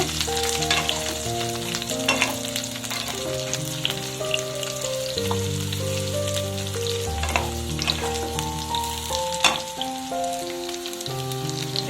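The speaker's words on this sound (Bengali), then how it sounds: "অন্যান্য সবজিগুলো কিন্তু দিয়ে দেবো একটু নাড়াচাড়া করে নেব" Mixed vegetables fry in ginger paste for a Bengali milk shukto, giving a steady close sizzle with occasional stirring scrapes, under continuous background music.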